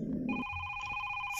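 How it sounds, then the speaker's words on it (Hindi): A telephone rings in the horror video game Is Simon There?, a steady electronic two-tone ring that begins after a brief low rumble and holds clear and prominent, with no talking over it. "Phone is ringing once again."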